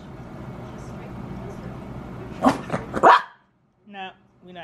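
A few short, choked barks from a dog sound close by over a low rumble, followed by a brief voice.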